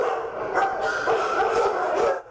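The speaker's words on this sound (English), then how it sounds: "it's the barking that lets you know there's something amiss at the Bakersfield Animal Care Center." Several dogs bark and yip continuously at the Bakersfield Animal Care Center shelter, a dense, overlapping chorus heard close and loud with no talking.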